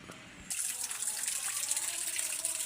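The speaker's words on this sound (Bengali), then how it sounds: "মাছগুলো ধুয়ে পরিষ্কার করে নিচ্ছি" Water gushes suddenly and keeps splashing steadily while sea fish are washed in a courtyard, close and fairly loud after a brief quieter moment.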